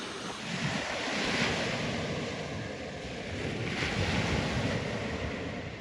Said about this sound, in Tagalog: Sarap lang pakinggan ng mga hampas ng alon.